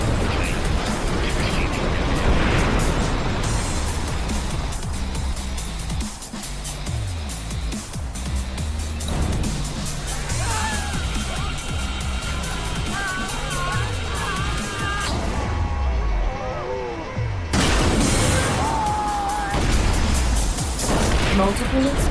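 Repeated explosions and crumbling structural collapse from the video game ScreamRide, a dense continuous rumble of blasts and debris running throughout, with a synthetic announcer voice calling out damage over it.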